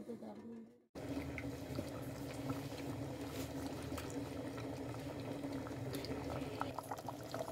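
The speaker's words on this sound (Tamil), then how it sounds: "இது இப்போ லைட்டாக கொதிச்சுக்கிட்டு இருக்கு" A pot of tomato rice pulao bubbles gently and steadily at close range, a soft continuous simmer with faint pops, after a brief moment of quieter sound at the start.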